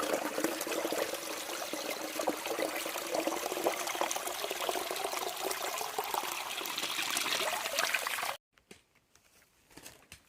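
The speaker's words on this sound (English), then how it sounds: "Water comes right out of the rock, and put this little half log here for once the water trough spout" Spring water trickles out of rock and pours off a half-log trough spout in a steady, close splashing stream, then cuts off abruptly and leaves faint quiet with a few soft knocks.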